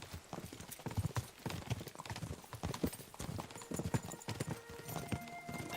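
Horse hooves clip-clop at a quick pace in Kingdom Come: Deliverance 2, with several horses in the game, a faint whinny, music and some talk over the steady, busy rhythm.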